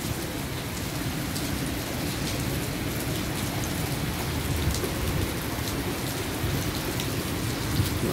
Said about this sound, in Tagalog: Lakas ng ulan, eh.